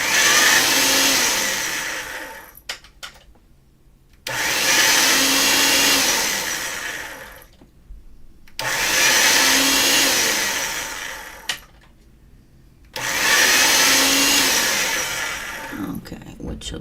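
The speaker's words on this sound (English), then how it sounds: "I'm going to get it through the pasta machine on a thicker setting" Pasta machine cranking dough through its rollers on a thicker setting, four loud whirring runs of about three seconds each separated by short pauses, close and steady, with no talk over them.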